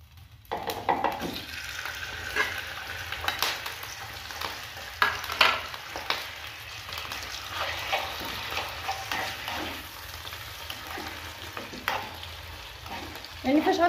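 Oil crackles and fizzes in a hot frying pan during preparation of a Moroccan pastilla, a steady close sizzle broken by irregular pops and light stirring clinks.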